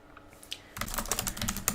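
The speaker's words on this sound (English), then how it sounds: "Just keyboard mashing." Computer keyboard mashed rapidly while setting text on a curved path in design software, a dense burst of clicking keystrokes starting abruptly after a quiet moment, close and fairly loud, with no talking.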